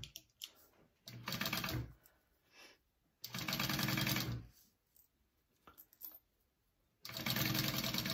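A sewing machine bastes an 1/8 inch seam allowance on a crossbody bag, running in three bursts of steady rapid stitching separated by pauses and faint handling noises.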